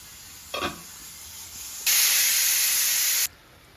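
A hot tempering of green chilies and curry leaves fried in oil is poured into a fish curry, giving a short sizzle followed by a loud, steady hiss lasting over a second before cutting off.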